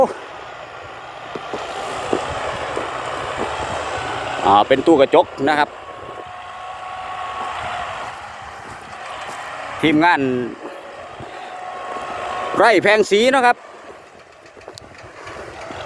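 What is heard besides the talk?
Massey Ferguson tractor engine running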